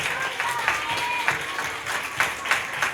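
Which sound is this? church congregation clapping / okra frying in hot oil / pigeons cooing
church congregation clapping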